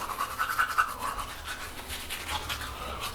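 Toothbrush bristles scrubbing teeth up close, a steady rhythmic rasping that goes on unbroken with no talk.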